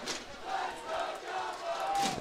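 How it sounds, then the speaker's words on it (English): A football crowd at a Tufts versus Bates college game roars and cheers in a steady, swelling wash of many voices. The noise builds toward the end and sounds close and full, with no clear single speaker. "The crowd's getting into it now."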